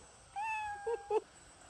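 A cat gives a short, fairly faint meow followed by two brief chirping mews, alone with no talking.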